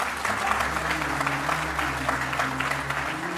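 Applause from a television studio audience in a Hindi courtroom-style show, dense, even clapping at a steady level with a low hum and faint voices underneath.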